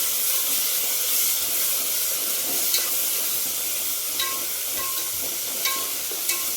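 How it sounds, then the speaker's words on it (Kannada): Tomatoes frying in a pan make a constant close hiss and sizzle with a steamy wash, broken by a few light clicks of stirring. "ಟೊಮೆಟೊನ ಜಲ್ದಿ ಫ್ರೈ ಆಗಲಿ"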